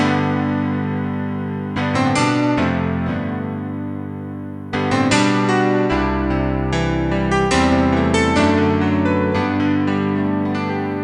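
An electric piano plays chords and melodic phrases with a bright, bell-like tone and slight effects, continuous and close, with no voices.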